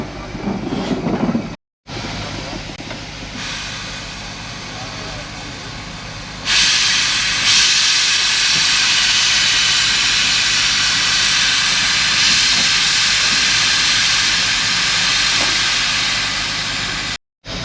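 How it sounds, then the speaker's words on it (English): Loud, continuous hiss of venting steam from a steam locomotive near Queenstown, Tasmania, steady and broadband, with a low engine rumble underneath and a brief break early on. "It's always a wonderful sight to see a steam train at work."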